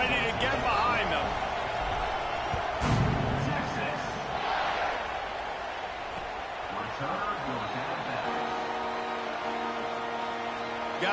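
Stadium crowd roaring in a CFB 26 college football video game, Texas hosting San Jose State before a kickoff, a broad steady wash of cheering running throughout beneath a play-by-play commentator's voice.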